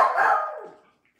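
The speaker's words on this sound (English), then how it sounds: "of course my dog has to bark at him" A pet dog barks once near the microphone indoors, a single loud drawn-out bark that fades away to silence.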